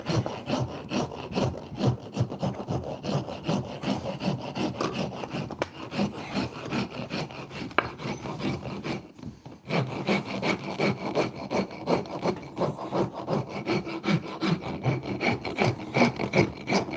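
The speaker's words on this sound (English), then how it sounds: "Bit of rasping." Someone rasps a wooden axe handle by hand, making steady rough scraping strokes in a quick back-and-forth rhythm, close up. A brief pause comes midway before the rubbing strokes resume, with no talking.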